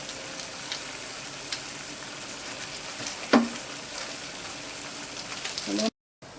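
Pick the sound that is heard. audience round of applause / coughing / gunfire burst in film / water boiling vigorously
water boiling vigorously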